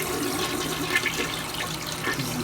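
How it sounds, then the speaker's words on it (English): A 1997 Gerber Aquasaver toilet in an apartment bathroom flushes with a steady, close rush of water that holds at an even level throughout, with no voices over it. "This is the toilet in my new apartment"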